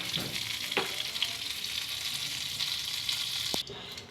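Butter sizzling in a frying pan as a curry is started, a steady close hiss with a couple of sharp utensil taps before the sizzle drops off abruptly near the end.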